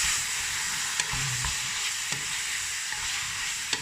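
Food with four-spice sizzling in a pan while being stirred, a constant hissing fry with occasional soft scrapes and clinks of the utensil.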